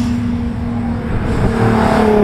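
Fast cars on a race track, a loud continuous engine roar with a steady tonal drone that swells slightly toward the end as a car drives by close, with no talk.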